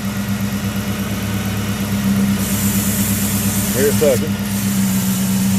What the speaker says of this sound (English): All right, car started up.